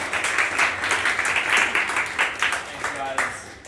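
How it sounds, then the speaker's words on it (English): Seminar audience breaks into sustained applause, a dense crackle of many hands clapping at steady loudness, with a few voices and cheers mixed in near the end. "Round of applause, everybody."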